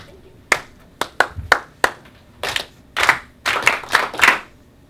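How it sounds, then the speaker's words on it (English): A class claps a call-and-response rhythm to quiet down: a few crisp single claps, then short clustered bursts of many hands clapping in unison, sharp and close with brief silences between. "we're going to clap it quiet"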